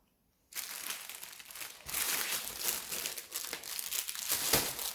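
Plastic packaging of a diamond painting kit crinkling steadily as it is opened, a continuous close rustle that begins abruptly and grows slightly louder, with crisp crackles throughout.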